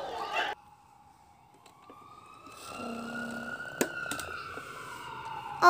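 An ambulance siren wails faintly in the distance, a long tone slowly rising and falling, with a short burst of voices at the start.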